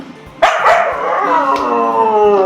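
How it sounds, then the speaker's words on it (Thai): Dog barking and howling close by, several loud yelping barks in quick succession trailing into a drawn-out whining howl, with no talk over it. "พี่เมฆกับพี่มาเขาตกใจแล้วอ่ะเห่าตลอดเลยอ่ะ"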